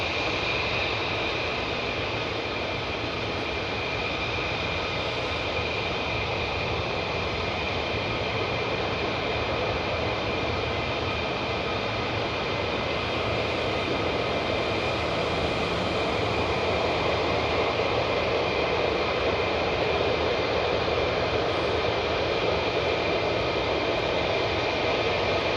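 Fighter jets take off in a group at RAF Lakenheath, a dense sustained jet roar with a bright tonal whine, steady and loud for the whole stretch and slowly building near the close.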